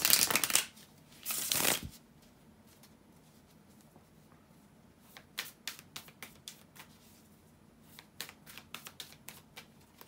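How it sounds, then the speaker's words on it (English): Tarot cards being shuffled in two loud riffling bursts, followed by a series of lighter, rapid card snaps and taps, close by with no talking. "bear with me a second, guys, to shuffle the tarot cards"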